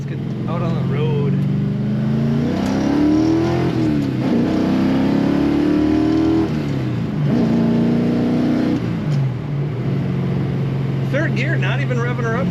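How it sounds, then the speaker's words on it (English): A 1965 Ford Mustang restomod coupe drives on the road, its engine humming loudly and steadily, with the pitch rising and then dropping at gear shifts, while someone talks over it. "Third gear, not even revving her up much."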